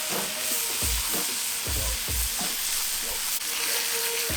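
Bacon sizzles steadily on a Pit Boss griddle, a constant frying hiss with a few soft taps and scrapes.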